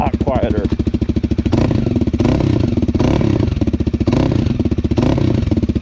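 A CFMOTO 300SS sport motorcycle with a non-stock exhaust thrums loudly and steadily close by while riding, with a rough, pulsing exhaust note and some wind noise.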